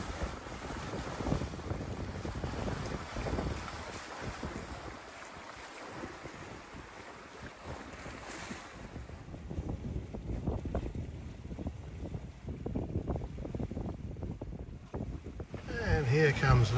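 Wind rushes and buffets the microphone steadily on a sailboat near Bream Head, a loud continuous roar rising and falling with gusts, waves washing underneath.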